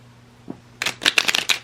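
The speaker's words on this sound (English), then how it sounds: "These ones are so tiny, so they're hard to shuffle." A quick riffle of shuffling small oracle cards, a brief flurry of papery flicks and slaps close by, after a faint tap.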